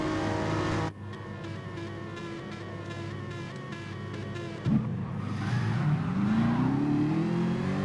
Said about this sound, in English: Let's have a look how this Jaguar launches.